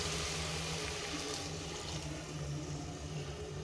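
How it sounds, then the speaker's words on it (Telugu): Water pours steadily into a cooking pot for bagara rice, a continuous close splashing rush with no voices over it. "మనం నీళ్ళు పోసుకుందాం"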